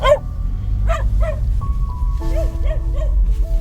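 Dogs bark in short, sharp bursts close by, with a few higher yips and whimpers over a steady low background rumble.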